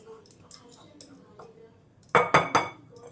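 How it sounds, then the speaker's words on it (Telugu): Dry fruits being stirred into fried ragi flour for laddu: a quick burst of three or four loud metallic scrapes and clinks of a spoon against a pan, after softer scattered taps. "ఈ డ్రై ఫ్రూట్స్ మొత్తం ఇందులో వేసుకొని ఒకసారి కలిపేసుకోండి."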